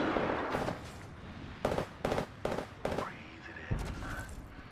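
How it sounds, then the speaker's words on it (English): Gunfire in Apex Legends on PS5: several distinct bursts of shots in quick succession, moderately close and fairly quiet, heard over background game sound and voice chatter. "Shit, I'm being shot at."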